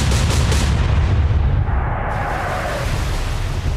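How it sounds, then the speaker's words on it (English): A warship's guns fire a salvo in a naval combat video game, heavy booming blasts up front that roll into a long rumbling tail, loud and close with no voices. "open fire all guns"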